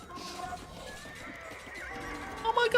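A horse whinnies in Age of Empires II, a high wavering neigh that rises louder near the end over a faint busy background.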